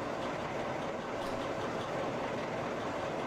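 Steady rumbling of a train rolling off in Train Simulator Classic, a continuous dense rail roar at even loudness with no distinct clacks, heard alone.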